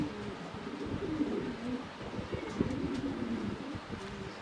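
Lahori pigeons, a big-sized European Lahori blue-bar pair among them, coo in soft, repeated low rolling calls close by, several overlapping phrases over light background rustle.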